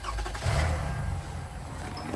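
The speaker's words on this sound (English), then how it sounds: "I'm gonna fire up the old Toyota Highlander here." An old Toyota Highlander engine cranks and catches, a brief low rumble that settles into a steady idle, heard close with no talking.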